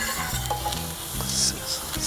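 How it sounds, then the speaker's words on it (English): Onions sizzle and crackle on a hot Solo Steelfire 30 griddle while being made into smash burgers, a close, steady frying hiss with soft scraping and stirring taps. "Let's start by getting our onions sizzling."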